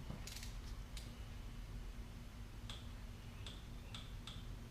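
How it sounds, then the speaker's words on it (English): A ratchet torques a new spark plug into an aluminum cylinder head, giving a few sharp clicks spread across a quiet stretch, set over a steady low hum. "So new one in, torquing it down."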